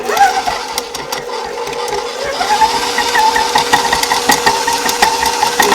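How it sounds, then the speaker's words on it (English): An electric stand mixer beating butter for an Easter lamb cake, a steady close motor whir with rattling and knocking from the beaters, holding constant throughout. "we're going to beat them in the mixer"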